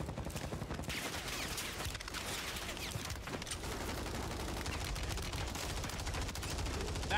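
Sustained rapid automatic fire from an MTZ 556 rifle in Call of Duty on Rebirth Island rattles continuously, bursts overlapping throughout at a steady, fairly quiet level.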